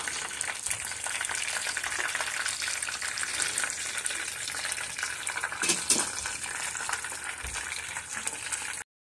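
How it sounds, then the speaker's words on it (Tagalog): Chicken pieces hiss in hot oil during a second frying to crisp them, a dense, loud, continuous crackle close by with a few brief clinks, cutting off abruptly at the end. "tuloy na natin sa pangalawang beses para mag-crunchy yung ating chicken"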